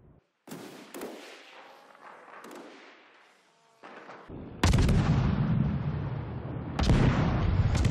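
Destroyer guns fire at the battleship Montana in a naval video game. Sharp, echoing gun reports come in scattered bursts, building to two heavy, sustained salvos near the end.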